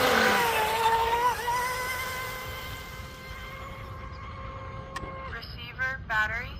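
A high-revving RC racing boat with a high-rake CNC aluminum prop whines steadily on glassy water, pitch shifting as it sweeps around a circular course, then fading and returning.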